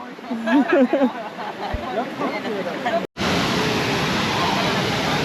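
Kawasan Falls, a 14-metre waterfall plunging into a pool, gives off a loud, steady roar of rushing water. The roar is heard alone after people talk briefly over quieter background noise.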